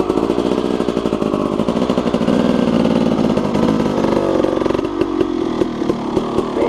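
A racing motorcycle engine at a racing school revs hard in a loud, buzzing, steady drone, then settles into rapid, choppy pulses near the end, heard close up.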